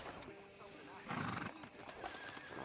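A horse in Red Dead Redemption 2 whinnies briefly while hooves clip-clop beneath game dialogue, the neigh rising loudly near the middle amid ambient outdoor sound.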